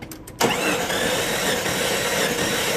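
Jeep engine cranking over during a wet compression test: a brief rhythmic starter chug, then a sudden loud, steady mechanical whir that runs on close up.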